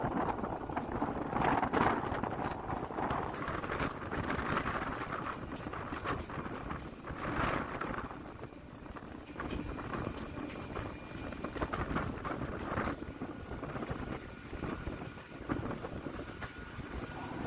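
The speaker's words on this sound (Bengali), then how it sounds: "ট্রেন ঢুকছে পাতিপুকুর স্টেশনে" A Kolkata local train on the circular rail line between Barrackpore and B.B.D. Bag rumbles steadily along the track near Patipukur, with continuous rolling noise and wind buffeting throughout, no talk.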